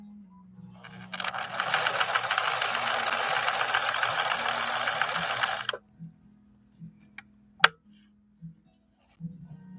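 A 1964 Viking Husqvarna 19E Special sewing machine runs steadily for about five seconds, its dense mechanical whir loud and close, then stops, followed by a few faint clicks and one sharp knock.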